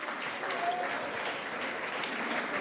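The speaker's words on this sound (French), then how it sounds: "vous pouvez l'applaudir très très fort s'il vous plaît" Steady applause from an audience at a French flash-talk panel on gender equality, a dense, even wash of many hands clapping throughout with no pauses, heard from a little distance.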